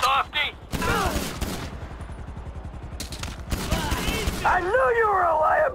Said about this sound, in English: There's guys shooting at you, Mikey!